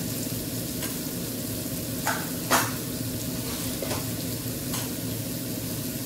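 Red chilli powder, turmeric, garam masala and coriander powder sizzle steadily in a hot pan for masala pav, with a few soft stirring scrapes over the continuous frying hiss.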